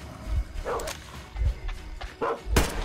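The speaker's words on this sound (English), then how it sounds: "There's so many dogs." Dogs bark in the Metro Exodus video game, several short sharp bursts spread across a few seconds among low thuds and rustling game noise, moderately loud and fairly close.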